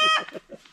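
A single Rhode Island chicken gives a short, close cluck followed by a few softer clipped clucks, loud and brief.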